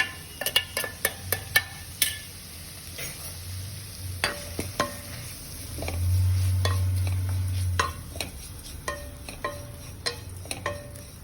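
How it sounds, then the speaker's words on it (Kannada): Ground masala with curry leaves fries in a pan for a Mangalore-style tondekayi kadle sukka, as a spoon clicks and scrapes repeatedly against the metal over a soft sizzle, with a brief louder burst of frying midway. "ಈಗ ಅದಕ್ಕೆ ಗ್ರೈಂಡ್ ಮಾಡಿದಂಥ ಮಸಾಲೆಯನ್ನು ಹಾಕಿ ಸ್ವಲ್ಪ ಹೊತ್ತು ಫ್ರೈ ಮಾಡೋಣ"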